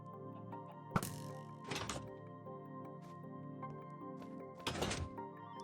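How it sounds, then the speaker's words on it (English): In Minecraft, an arrow is shot at a target, giving a couple of short, faint thunks and cracks over a quiet tonal game background. "We can shoot this arrow when the light is on."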